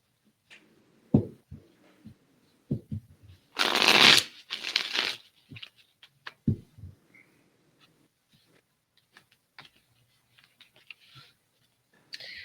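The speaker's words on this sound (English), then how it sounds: "while I was shuffling the cards" A deck of playing cards is riffled in one loud, brief burst, surrounded by scattered clicks and taps in an otherwise quiet room.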